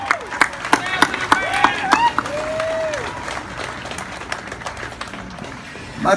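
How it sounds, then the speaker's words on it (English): An outdoor crowd at a Cedar Point hootenanny claps for a local bluegrass jamboree band, sharp scattered claps up close with whoops and voices, thinning toward the end. "How about a big round of applause for our town's very own Bluegrass Jamboree Band?"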